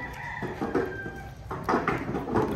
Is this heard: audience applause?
no